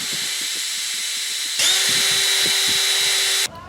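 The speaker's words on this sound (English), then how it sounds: "now all I gotta do is drill out the hole that the pin is gonna go in" Power drill boring a pin hole in wood while making a chipmunk call lure: a steady high whine that jumps louder and higher partway through as the bit bites, then cuts off near the end, close and alone.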